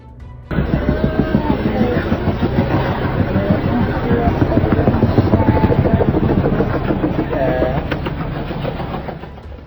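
A helicopter landing on a sandy beach by ocean waves drones loudly and continuously, rotor thumping pulsing steadily, with voices speaking over the noise.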